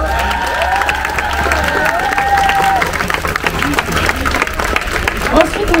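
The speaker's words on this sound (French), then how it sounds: "Je pense qu'on peut les applaudir." A crowd at a pride march in Périgueux applauds and cheers outdoors, sustained clapping with whistles and shouts, fairly close and lively, a drum group audible in the mix.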